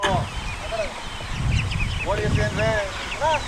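Young ducks peep and chirp in quick bursts of short, high calls, close and fairly loud, with faint muffled noise underneath.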